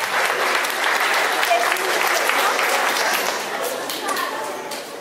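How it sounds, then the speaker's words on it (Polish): A school New Year concert audience breaks into steady applause after an auction sale, many hands clapping together, full and continuous before easing slightly at the end. "Gratulacje, sprzedaż, brawa!"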